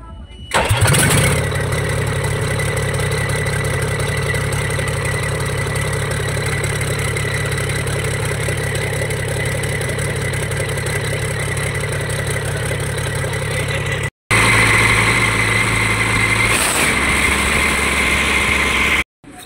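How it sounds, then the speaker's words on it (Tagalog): A Weichai diesel engine with a black-smoke problem cranks and catches, then settles into a loud, steady close-up idle that breaks off briefly before running on. "So yan guys, patry natin pa-start yung makina."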